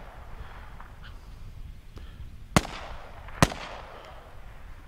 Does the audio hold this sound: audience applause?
no